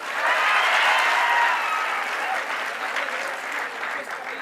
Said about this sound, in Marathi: ह्या उभे राहणाऱ्या लेकरांसाठी एकदा जोरदार टाळ्या होत्या पहा